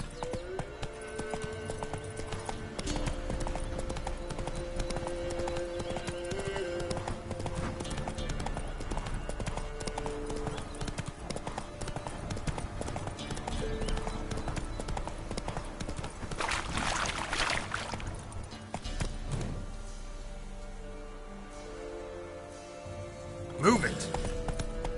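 Hooves of Roach, a horse in a video game, clip-clop steadily over a bed of game music and ambience, with a voice talking over the hoofbeats and a brief louder burst near the end.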